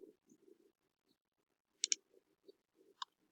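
A mouse clicking while working in an Excel spreadsheet: a quick pair of sharp, close clicks near the middle, then a single click toward the end, over faint low background murmur.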